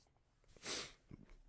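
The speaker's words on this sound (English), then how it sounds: "Oh, I'm about to sneeze again." A single sharp sneeze bursts out midway, loud and close, with soft breathing and small rustles around it.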